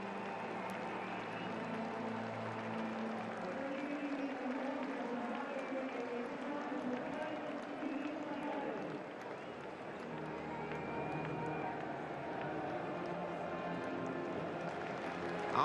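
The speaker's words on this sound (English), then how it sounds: "they get a good share of the applause here" A football stadium crowd at Arsenal's home ground applauds steadily for Everton players during a Premier League match, a broad, distant wash of clapping and crowd noise that runs the whole time beneath a commentator's voice.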